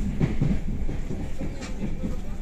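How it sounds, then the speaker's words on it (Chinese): Inside a passenger train carriage, the train rolls along with a steady, loud low rumble and faint rhythmic clickety-clack from the rails, filling the whole stretch. "看看这个火车啊"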